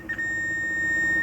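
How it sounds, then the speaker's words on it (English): Steady high-pitched continuity beep from a multimeter probing a pin on an HP laptop motherboard, a clear tone sustained for the whole moment with faint background hum. "we are getting a beep sound"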